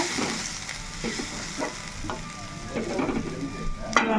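Tandoori chicken curry simmers in a pan after water is added, giving a close, steady sizzle and bubbling broken by soft scraping stirs.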